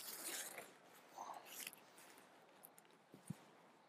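A zipper on a Dutchware Chameleon camping hammock is drawn shut in a few quick, faint rasping pulls, followed by soft rustling and a couple of small knocks outdoors.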